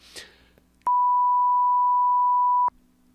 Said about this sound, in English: I think I got a beep button